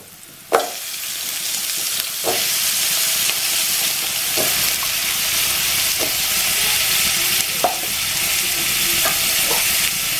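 Carrots and other vegetables fry in a hot pan with a steady loud sizzle, while a spoon stirs them in scattered scrapes and clacks. No one speaks.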